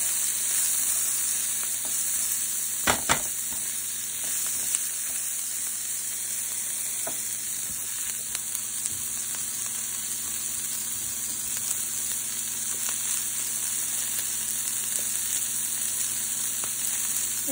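Half a cup of onion fries in a hot pan for an okra bean meal, giving a steady, close, continuous sizzle and crackle that holds evenly throughout with no talking.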